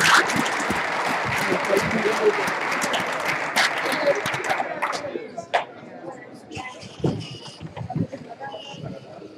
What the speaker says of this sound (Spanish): un fuerte aplauso, claro que sí